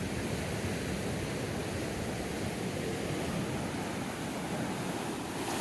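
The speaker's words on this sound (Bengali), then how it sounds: "এক একটা ঢেউ আসতেছে" Surf at Cox's Bazar beach roars in a steady, loud broadband wash, breaking waves and wind blending into continuous noise with no pauses throughout.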